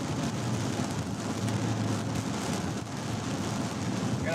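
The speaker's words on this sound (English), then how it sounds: "As you guys can tell, it's a little rainy." Steady rain during a tornado storm chase in Minnesota and Wisconsin, a dense continuous patter with faint low rumble beneath, no voices.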